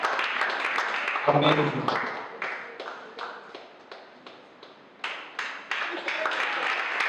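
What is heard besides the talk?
standing ovation, audience clapping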